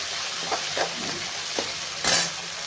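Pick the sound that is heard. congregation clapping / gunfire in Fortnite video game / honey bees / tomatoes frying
tomatoes frying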